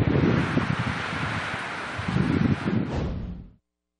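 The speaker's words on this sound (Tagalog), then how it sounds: "Inihampas ang malakas itong hangin sa lahat ng madadaanan" Loud, gusting typhoon wind roars and buffets the microphone in surges during heavy rain in Catanduanes, Philippines, then cuts off abruptly near the end.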